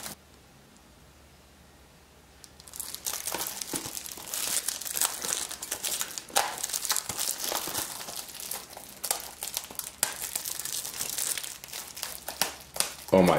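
Plastic shrink wrap is crinkled and torn off a Blu-ray case, a dense run of close, loud crackling and ripping after a quiet start.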